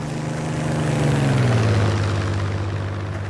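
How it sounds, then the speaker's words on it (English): Propeller aircraft in the game Heroes & Generals drones as it approaches, a loud steady engine hum whose pitch slides lower midway and holds, sounding muffled and continuous with no talk. "So as you can hear, once I can't see the plane, it gets more muffled"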